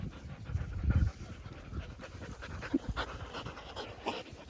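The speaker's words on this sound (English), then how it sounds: "You bark too much." Dog panting steadily and close, with a few soft huffs and light movement noise, low in level and without clear barking.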